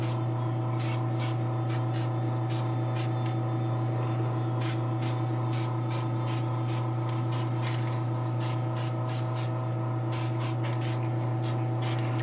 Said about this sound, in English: it's kind of wet as I'm spraying it